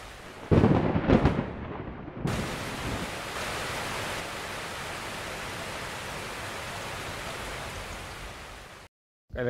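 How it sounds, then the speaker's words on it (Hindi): Heavy rain pours in a steady, loud hiss, opening with a deep rumbling thunder burst, then continuing as dense unbroken rainfall before cutting off abruptly near the end. "कल बहुत माशाल्लाह यहाँ पे बारिश हुई"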